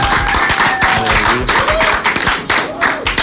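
Studio audience of a Spanish-language television programme clapping and cheering loudly throughout, a dense steady wash of applause with bits of whistles or shouts mixed in.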